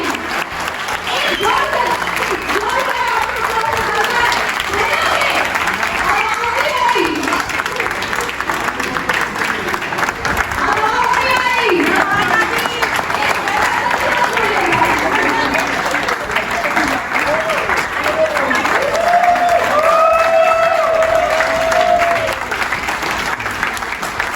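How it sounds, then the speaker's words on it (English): Guests at an educational-trip award ceremony at a resort give a continuous round of applause and cheering, loud and sustained, with voices and whoops mixed into the clapping. "Can we have a great round of applause for all the ideas from all of us?"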